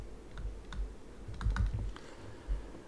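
Typing on a computer keyboard in a lab setting, a few scattered soft key clicks in short bursts, faint and close, with no one speaking.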